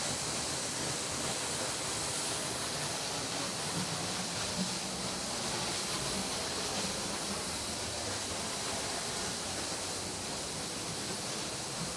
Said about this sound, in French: on entend clairement la puissance de la cascade.